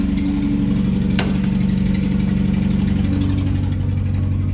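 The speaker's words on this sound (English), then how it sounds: "Honda VTEC engine, amazing things." A Honda VTEC engine runs loudly with a steady, rising rev, its droning hum held close and constant throughout, with one sharp click partway through.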